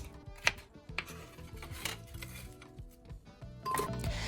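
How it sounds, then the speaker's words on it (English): Knife chopping a habanero pepper into tiny chunks, a series of irregular taps on a cutting board over a steady background hum, with no talking. "I'll make sure to cut this into really tiny chunks"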